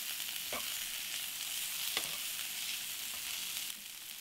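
Potatoes and green peas being stirred in a frying pan, a steady close sizzle with a few soft scrapes of the spoon, without talk.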